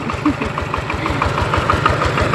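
A diesel tractor engine chugs loudly and steadily nearby as it leaves a rice mill, its low knocking beat even and unbroken throughout.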